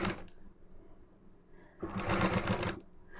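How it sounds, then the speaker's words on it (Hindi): A sewing machine stitches slowly along the curved princess-cut joint of a blouse, a short burst of needle chatter near the start, a quiet pause, then a longer close run of rapid clatter. "जैसे देखिए मैं लगा रहा हूँ एकदम धीरे धीरे"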